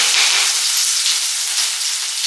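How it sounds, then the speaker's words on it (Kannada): Ginger, garlic, green chilli and onion fry in oil in a pan for baby corn Manchurian, giving a loud, steady, bright sizzle that continues evenly throughout with no talk. "ಈಗ ಶುಂಠಿ ಬೆಳ್ಳುಳ್ಳಿ ಹಾಕ್ತಾ ಇದೆ ಹಾಗೆ ಹಸಿ ಮೆಣಸಿನ್ಕಾಯಿ ಈರುಳ್ಳಿ"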